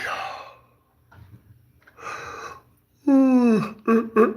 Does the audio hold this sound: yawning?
yes